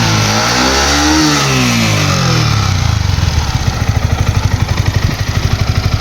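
A vehicle engine low on coolant and overheating runs just after starting, first revving with a falling pitch, then settling into a loud, steady, rhythmic chugging close by.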